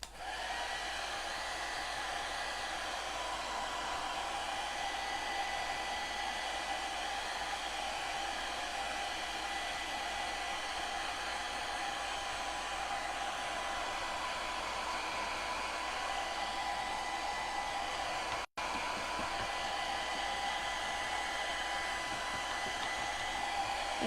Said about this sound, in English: So let me grab the blow dryer because I got to get these, blow dry these real quick